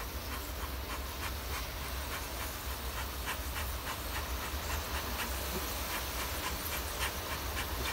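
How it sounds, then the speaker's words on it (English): Bees buzz in a steady, faint drone around a smoked hive during a removal, under constant hissing background noise. "They're pretty well fanning the smoke out of the hive."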